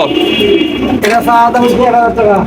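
Soft cooing from a pair of Gola pigeons at a pigeon market sits beneath loud, continuous talking from a nearby voice, with the birds' low murmuring mostly buried in the chatter.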